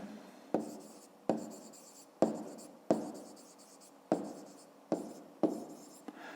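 Pen strokes on paper during a fifth-grade math exercise, a series of about eight short, crisp scratches spaced roughly a second apart, heard close up with no talking.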